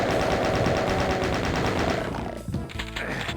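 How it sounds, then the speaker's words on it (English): Rapid, high-rate automatic gunfire from a 1993–1995-era first-person shooter fires in a steady loud burst for about two seconds, then breaks into scattered shots and other game noises. "Sometimes you just want to be able to enjoy a high RPM fire rate"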